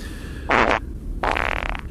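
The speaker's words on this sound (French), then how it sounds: "J'ai pété." Two short, close farts in a row, the second slightly longer, in otherwise quiet surroundings.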